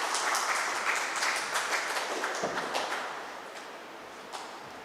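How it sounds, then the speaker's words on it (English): Audience applause welcomes a speaker at a history book review event, a full, even wash of clapping that gradually dies down toward the end with a lone late clap. "Please give her a warm welcome, a warm applause."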